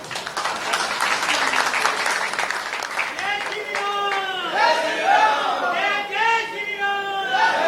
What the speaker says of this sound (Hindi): जोरदार तालियां अपने लिए बजाइए